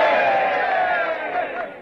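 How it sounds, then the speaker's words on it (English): A crowd of boys lets out a loud, ragged cheer for a little lady in an old Western film, a sustained shout that fades slightly toward the end. "How about it, boys? A cheer for the little lady."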